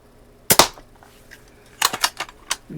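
Daisy 299 BB gun fired at a target, a sharp pop near the start followed by a quick cluster of several snappy shots, close and loud with no talking.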